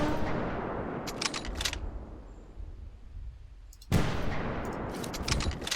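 Two heavy shots from the big gun in Prehistoric Hunt ring out, one near the start and another about four seconds later, each a sharp broadband blast with a rumbling tail, separated by a quieter gap.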